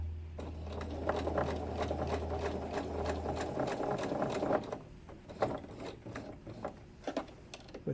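Sewing machine stitching a tote shopping bag on the diagonal, a steady close mechanical whir with rapid needle clatter for about four and a half seconds, then a stop followed by scattered clicks and fabric handling sounds.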